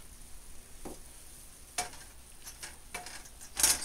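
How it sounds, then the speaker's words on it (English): Seasoning with herbs like oregano, marjoram, basil, rosemary and sage being stirred through a hot pan, a soft steady sizzle broken by a few scraping stirs and light clinks, fairly faint and close. "Stir it all around."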